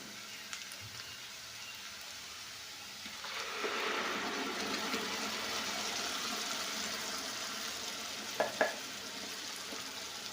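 Boiled eggs frying in a pan as tomato juice is poured in, a steady close sizzle swelling to full strength after a few seconds, with a couple of sharp utensil clinks near the end and no talk.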